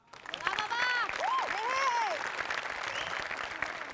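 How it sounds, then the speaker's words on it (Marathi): An audience claps for a performer on a Marathi comedy stage show. The clapping is dense and continuous, with whoops and voices rising over it near the start, then settles into a steady patter. "सगळ्यात आधी आपण टाळ्या वाजवूया बाबासाठी"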